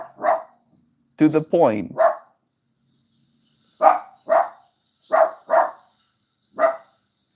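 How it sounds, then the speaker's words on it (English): Several sharp dog barks, spaced irregularly, close by, with a brief spoken phrase mixed in among them. "What are you barking at?"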